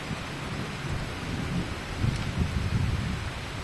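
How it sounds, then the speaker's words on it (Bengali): Heavy nighttime downpour with rolling thunder, a dense steady rain roar under low rumbling swells that build louder toward the end, heard close and continuous with no talking. "আজকেই সবচেয়ে ঝুম বৃষ্টি, এক কথায় মুষলধারে মেঘের গর্জন"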